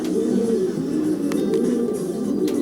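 Homing pigeons coo in a loft just after returning from a race, with close, continuous low throaty cooing from several birds and a few wing flutters.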